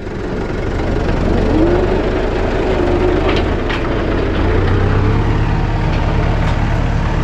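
A tractor engine rumbles steadily at mid distance as it is driven into a muddy stream crossing used by cattle, with the motor's pitch shifting slightly as it works through the soft ground.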